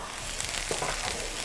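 Onion and garlic sizzling in butter in a frying pan while cooking Korean fried chicken, a steady close crackling fry with faint stirring clicks.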